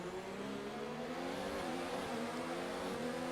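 Race car engines in a Formula 1 racing video game drone steadily at high revs, several cars running close together in a continuous layered whine with no pauses.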